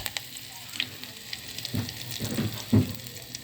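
Curry leaves and cumin seeds frying in hot oil give a faint, soft sizzle with a few light crackles and spatters, close by and without talk.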